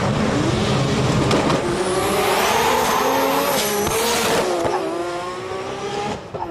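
A Nissan GTR drag car with twin HKS 3240 turbos accelerates hard at a street drags event, its loud engine rising through the gears with rising pitch, close and dominant throughout, with no talking.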